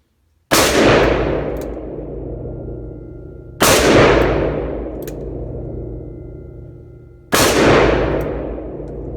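A Smith & Wesson 460XVR revolver fires Hornady rounds three times at even intervals of about three seconds, each a very loud, sharp blast with a long ringing decay outdoors.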